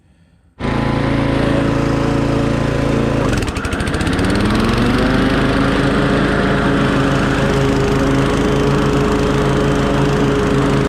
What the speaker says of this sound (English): hear the motor sounds for a minute of the commercial 30X series. Starting to mow down the front yard